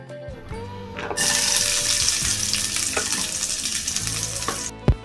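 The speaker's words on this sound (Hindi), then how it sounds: "आप या तो ऑयल में भगार लगाएं या फिर देसी घी।" Loud sizzling as garlic hits hot oil for tempering, a steady crackling hiss for several seconds, with a few clanks and a sharp knock near the end.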